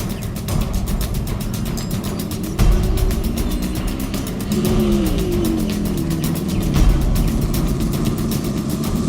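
A car engine hums and revs steadily while driving, holding a loud continuous drone with rising pitch swells partway through and no speech.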